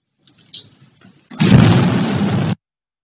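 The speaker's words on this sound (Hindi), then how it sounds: "आसमानी बिजली मीटर पर गिरने से जोरदार धमाका हुआ" Lightning strikes a house's electric meter, caught on a CCTV camera: after a few faint knocks, a sudden loud, roaring bang blasts for about a second, then cuts off abruptly.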